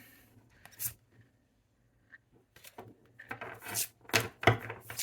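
Tarot cards being shuffled by hand make soft, irregular papery riffles and taps, sparse at first and then building into denser bursts, close and fairly quiet.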